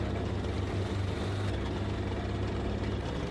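A Panther main battle tank in a video game rumbles with a steady, low engine drone and track noise, constant and close throughout, with no voices.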